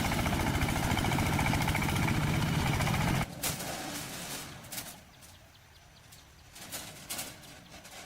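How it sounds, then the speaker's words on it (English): A tractor engine rumbles loud and close as it drives over a rocky riverbed, then drops to a lower, rougher idle-like drone with occasional bursts. "The tractor's high clearance and aggressive tire treads allow it to bite into the rocky riverbed without stalling."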